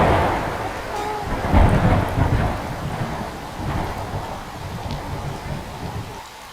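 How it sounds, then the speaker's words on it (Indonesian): Rain falls steadily outdoors with low rumbling thunder and gusts of wind buffeting the microphone, loud and close. "Kan lagi hujan."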